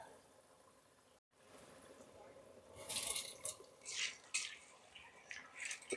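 Water poured into a cooking pot while making bagara rice with chicken in a home kitchen, bursts of splashing and filling that start after a quiet moment and come in uneven pulses.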